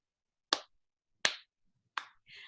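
Three sharp, separate hand claps ring out about three quarters of a second apart in a quiet room, with a faint trailing sound after the last.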